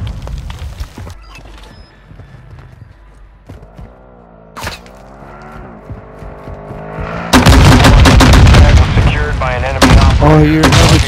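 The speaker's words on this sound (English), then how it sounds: "You are taking effective fire." Gunfire and explosions in Call of Duty DMZ erupt loudly in the second half, dense bursts and booms following quieter game sounds and a voice.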